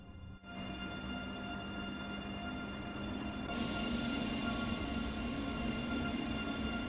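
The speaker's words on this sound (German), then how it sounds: "und der Güterzug fährt auch weiter" A freight train running in Train Sim World 3, a steady rolling rumble with a sustained tonal hum that grows louder and brighter partway through, continuous and close, with no talk.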